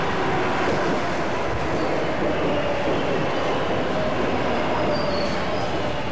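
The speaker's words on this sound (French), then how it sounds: "À la station de métro Fresh Pond dans le Queens" A New York subway train on the M line, at Fresh Pond station in Queens, rumbles loudly and steadily, with wheels squealing faintly on the rails and no voices.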